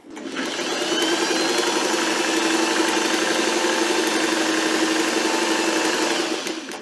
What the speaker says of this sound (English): Now I'm just going to sew up the side seam.